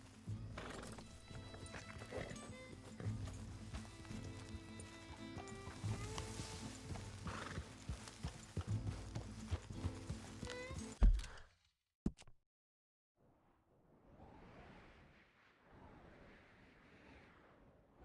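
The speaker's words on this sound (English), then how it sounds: "Get back on the horse." Horse hooves clip-clop in steady rhythm in the video game Red Dead Redemption 2, close and clear under music and ambient game sound, followed by a thud, a sharp knock and a horse's soft snorting neigh near the end.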